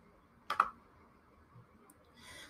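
A quick pair of crisp computer mouse clicks sounds close and quiet in a still room, followed by a faint tick and a soft rustle.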